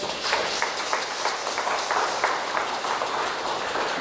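At an indigenous heritage festival in Trinidad and Tobago, an audience claps in a dense, steady roar that holds evenly from start to finish.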